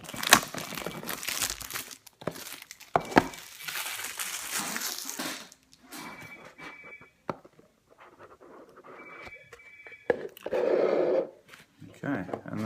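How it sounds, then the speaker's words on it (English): Plastic sheath being torn and crinkled off a vape kit box for an Eleaf iStick with an Aspire Nautilus Mini, bursts of crackling and rustling with pauses between them, interleaved with someone talking. "What we'll do is we'll get the plastic sheath off."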